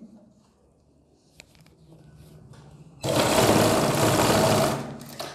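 An electric sewing machine stitching the collar of a kurti, a close, loud rapid whirring run of about a second and a half after quiet fabric handling and soft clicks.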